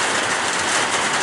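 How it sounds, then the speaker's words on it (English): Afternoon rain falls in a steady, dense wash of noise, continuous and moderately loud throughout, with no talking over it. "So it's afternoon now, and so we finally got this rain."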